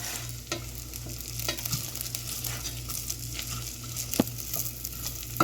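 Dry leftover rice, about two cups, sizzles quietly in a frying pan, with irregular scraping stirs of a utensil across the pan and small taps over a soft steady fry.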